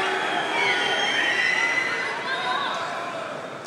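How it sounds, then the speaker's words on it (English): A large crowd at a world championship table tennis match in Dortmund fills the hall with sustained noise and shrill whistling. The whistles drift over a steady roar that fades slightly toward the end. "A few whistles of frustration."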